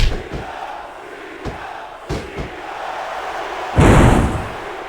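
A video game wrestling crowd from WWE SmackDown! vs. Raw 2006 roars in a steady background wash, with thuds from ring impacts and a louder surge of cheering near the end.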